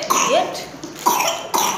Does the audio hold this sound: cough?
yes